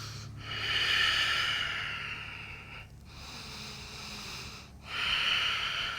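Deep, slow breaths held in yoga dolphin pose, with long airy inhales and exhales rising and falling in a steady rhythm, close and fairly loud with no talking.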